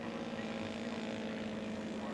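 A Robart-powered PT-23 scale model airplane flying at a scale aircraft show, a steady droning engine hum holding level at moderate distance for the whole brief stretch.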